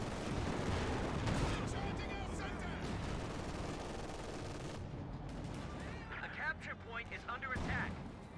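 Tiger tank cannon and mortar crew fire in Company of Heroes 2: loud rolling booms and rattling gunfire that fade toward the end, with commentary spoken throughout.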